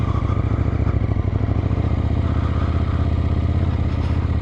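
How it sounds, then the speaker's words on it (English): KTM 890 SMT motorcycle fitted with a Remus exhaust, running with a steady, throbbing engine note and a rapid pulsing beat, close and loud throughout without any talk. "The bike has a Remus exhaust on it, and it sounds nice"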